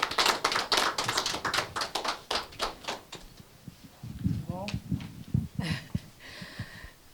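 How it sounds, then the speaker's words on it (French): Scattered hand clapping from an audience at an RDC Monde association gathering, a quick run of claps that thins out after a few seconds, followed by voices talking. "je vous demanderai juste de l'applaudir pour essayer un peu de l'encourager"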